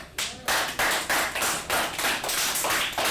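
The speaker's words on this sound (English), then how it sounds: "Clap it up." A class clapping together in a steady rhythm of loud, evenly spaced claps, nearby and without talk.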